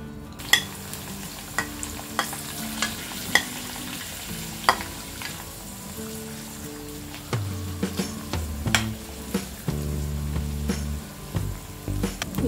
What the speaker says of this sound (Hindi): इसे हम लो फ्लेम में फ्राई करेंगे आंवला सॉफ्ट होने तक।